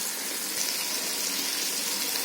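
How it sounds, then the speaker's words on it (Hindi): Water is poured steadily into frying mutton for biryani, producing a loud, even hissing gush that runs throughout without a break. "मैं पानी डालकर गलने रख रही हूँ"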